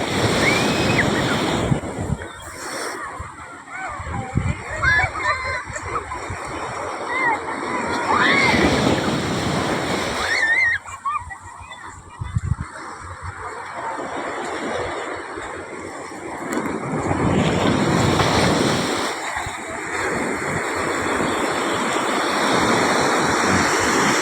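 Surf washes in and recedes in broad rolling swells, mixed with gusty wind noise on the microphone and occasional voices in between.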